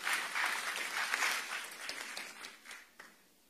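A church congregation applauds at a worship service, a dense, bright wash of clapping that is loudest early on, then gradually thins and fades out with a few scattered claps near the end.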